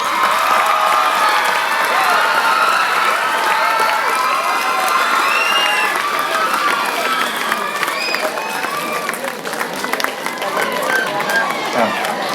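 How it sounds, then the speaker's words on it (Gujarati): An audience rises in a standing ovation, a dense sustained wash of clapping and cheering from a large crowd in a hall, loud and continuous throughout. "આપણે આપણા સ્થાન પર ઊભા રહી અને તાળીઓ આપણે અટકવી ના જોઈએ"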